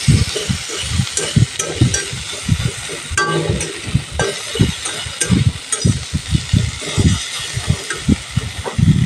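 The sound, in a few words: frying fish with elephant apple (outenga) pieces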